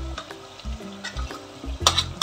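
Tomato sizzling and frying in a pan for pepper chicken gravy, with loud bursts of hiss and short scrapes of stirring, no voices.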